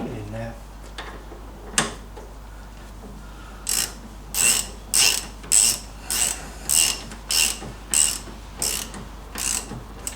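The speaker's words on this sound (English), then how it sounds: "now we can go around and start tightening these nuts and bolts up" A ratchet spanner clicks in about a dozen regular bursts while nuts and bolts are tightened on an MGB front suspension in a workshop, sharp and close, with a few faint knocks beforehand.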